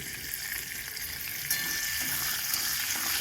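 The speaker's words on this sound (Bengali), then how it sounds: "এবার আমি রসুন, আদা আর লঙ্কা কুচিটা দিয়ে দেবো প্রথমে।" Garlic, ginger and chopped chili frying in a wok for chicken Schezwan fried rice, a steady close sizzle with stirring, brightening slightly midway and continuing without talk.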